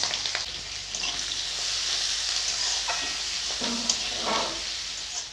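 Chopped onions and green chillies fry in oil in a kadai with a loud, steady sizzle, joined by the scrape and clatter of stirring throughout, and no talk.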